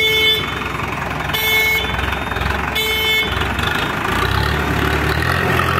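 Traffic jam outside the Kothrud ward office in Pune during electricity works, a truck engine idling steadily nearby while car horns blare in three longer bursts over the rumble.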